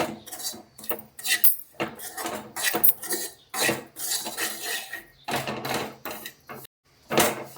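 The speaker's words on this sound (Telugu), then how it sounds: "కింద మాడకుండా కింద మాడిపోకుండా ఇలా కలబెట్టుకుంటూ ఉండాలి" Jowar flour and black sesame are stirred in a metal pan, giving repeated scraping and clinking strokes of a utensil against the pan in an uneven rhythm, close and fairly clear.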